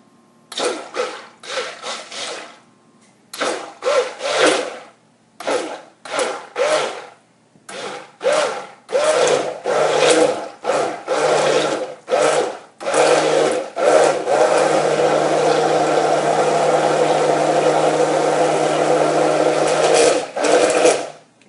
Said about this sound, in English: a little bit of a blend with my stick blender.